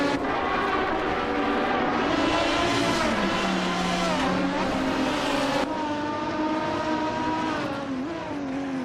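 A 2004 Chevrolet Corvette C50 race car engine in a racing video game roars steadily at high revs, its loud harmonic whine shifting pitch through gear changes without a break.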